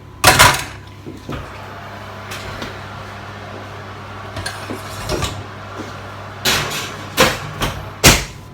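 Kitchen sounds around an electric oven as a cheese-topped chicken enchilada dish goes in: several sharp knocks and clunks, the loudest bunched near the end like a door shutting, over a steady low appliance hum.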